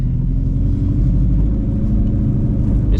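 An 800HP Shelby GT350 idling and rolling off, a deep, steady, close engine rumble with strong low-end burble throughout and no speech.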